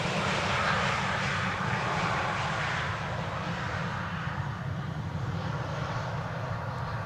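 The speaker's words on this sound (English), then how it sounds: "a departure from 18 left in the background. Looks like a 777" A Boeing 777 jet departing from runway 18 left at Amsterdam Schiphol produces a steady, broad engine roar, moderately loud and continuous, with no talk.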